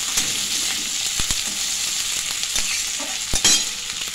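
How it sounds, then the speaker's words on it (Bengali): Chopped onions fry lightly in a pan, giving a dense close sizzle punctuated by a few sharp knocks and scrapes of a stirring utensil, with no talk. "দিয়ে দিচ্ছি পেঁয়াজ কুচানো। বেশি ভাজবো না, হালকা করে একটু ভেজে নিচ্ছি পেঁয়াজগুলো"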